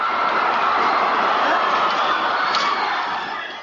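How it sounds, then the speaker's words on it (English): A large crowd of protesters in Bucharest, a loud dense roar of many voices shouting together that stays steady before fading slightly at the end. "But the crowd erupted in protest"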